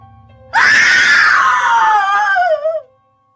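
A woman lets out one long, loud, piercing scream that starts abruptly, slowly falls in pitch and cuts off after about two seconds, heard alone and close.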